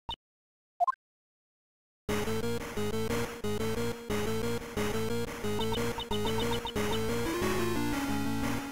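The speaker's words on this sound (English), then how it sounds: "That sound is... her cell phone." In the Ace Attorney Investigations video game, a cell phone rings with a repeating electronic ringtone melody in a rhythmic pattern, following two brief chirps and a short silence.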